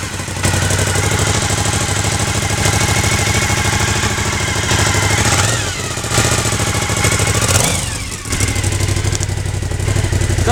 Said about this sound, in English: The motor itself sounds healthy, no tapping, banging.